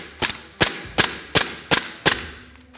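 A gas blowback airsoft pistol fitted with a tracer silencer fires six sharp, loud, evenly spaced shots close by, each a crisp snap with a brief mechanical clack, and no voices.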